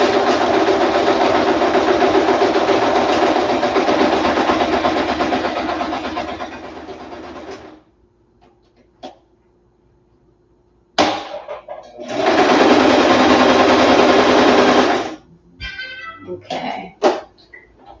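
A sewing machine hems fabric in two loud, steady runs of whirring stitching separated by a quiet pause, with faint handling clicks and rustles in between.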